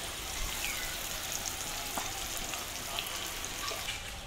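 Cauliflower pieces frying in hot oil in a pan, an even, continuous sizzle with faint crackles and pops, close and moderately loud, with no voices.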